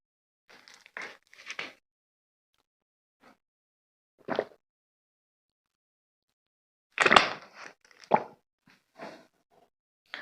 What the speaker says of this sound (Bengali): একটু জল পান করে নিলাম